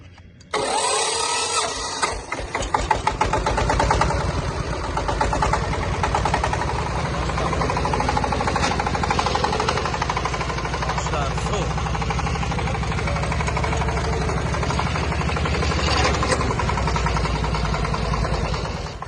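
A new mini tractor's engine runs steadily at idle with a close, continuous mechanical drone and rattle throughout, while someone talks over it.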